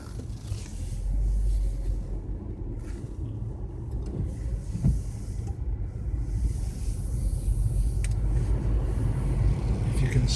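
A car drives on a stormy, gloomy day, with a steady low road rumble and engine drone inside the cabin, swelling slightly, plus occasional soft knocks.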